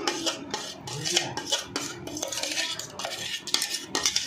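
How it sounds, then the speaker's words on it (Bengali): A spoon scrapes and clinks steadily against a metal pot while kesar badam kulfi mixture is stirred, making repeated rhythmic strokes close up with no talking. "এবার এর সঙ্গে আমি ভালো করে মিশিয়ে নেব সুন্দরভাবে মিশিয়ে নেব"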